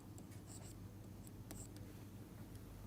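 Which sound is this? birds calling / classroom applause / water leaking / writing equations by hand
writing equations by hand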